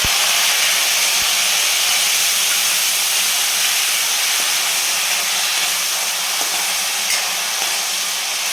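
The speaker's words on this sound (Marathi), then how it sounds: "जिरे एकदम छान फुलल्यानंतर आपल्याला याच्यामध्ये टोमॅटो टाकून घ्यायचा आहे" Tomato hits hot oil with spluttered cumin seeds in a pan for a drumstick-leaf vegetable dish, giving a loud, steady, close hissing sizzle that holds evenly throughout without any talk.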